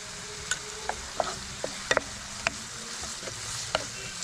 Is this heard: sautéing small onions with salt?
yes